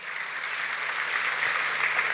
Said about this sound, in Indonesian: ini kasih tepuk tangan dulu